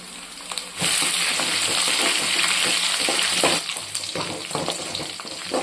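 Green chillies sizzling and sautéing in hot oil for a fish curry, a steady loud frying hiss with stirring scrapes that swells after a brief quieter start and continues close up without talk.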